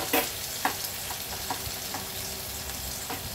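Chopped garlic and five-spice seeds fry in hot oil in a pan for a hilsa fish-bone dish, giving a steady close sizzle with a few light clicks of stirring.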